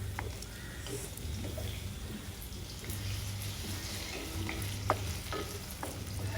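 Eggplant pieces sauté in hot oil for a Tamil kathirikai kuzhambu, with a steady soft sizzle and frying crackle, plus occasional light stirring clicks, close and quiet with no voices.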